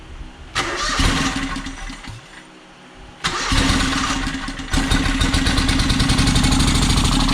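A John Deere X485 lawn tractor engine cranks and catches, sags briefly, then surges back and runs steadily on both cylinders with a loud, close, rough mechanical drone.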